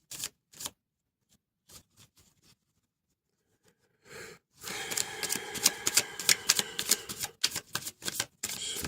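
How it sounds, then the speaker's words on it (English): Tarot cards being drawn and handled: a few soft, scattered clicks and taps at first, then a dense run of quick, crisp card snaps and riffling close by, with no talk. "let's pull 2 tarot cards"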